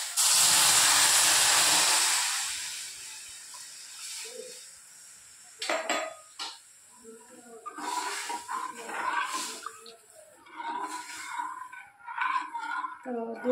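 Milk is poured into hot roasted daliya in a pan, giving a loud burst of hissing and sizzling steam that fades over a few seconds, followed by softer bubbling as a person talks.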